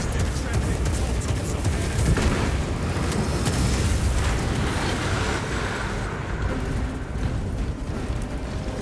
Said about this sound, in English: those grenades are getting annoying.